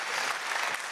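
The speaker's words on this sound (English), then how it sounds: "If you're going to clap, clap really loud." A church congregation claps loudly during a sermon, a dense and sustained burst of applause filling the whole moment without any speech over it.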